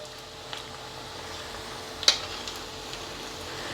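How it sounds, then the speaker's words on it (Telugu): Vadas made from black urad dal fry a second time in hot oil with a faint, steady hiss, broken by one sharp pop midway through. "ఇట్లా రెండోసారి ఫ్రై అయిపోతే క్రిస్పీనెస్ బాగా వస్తాయి"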